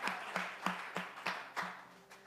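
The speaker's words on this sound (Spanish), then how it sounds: "Give a big applause to the Lord" Applause from a church congregation during a sermon, rising in several rhythmic waves of clapping about every third of a second, moderately loud and alone with no talk.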